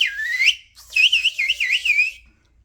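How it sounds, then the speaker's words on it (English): A loud fingerless wolf whistle, piercing and high-pitched, with a rising sweep followed by a warbling wavering run, alone and close. "That's the whistle you can do really loud over the applause of a stadium."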